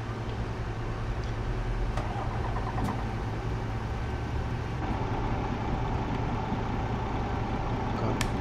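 A DAF truck pulling a B-train trailer idles steadily in Euro Truck Simulator 2, its low engine drone continuous and close with faint clicks over the top.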